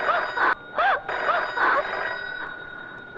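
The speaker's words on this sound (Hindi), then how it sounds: "बज गई, टेलीफोन की घंटी बज गई।" A telephone bell rings in a Hindi film scene, in repeated bursts of bright metallic trilling over a steady electronic tone, loud and close, with no talking.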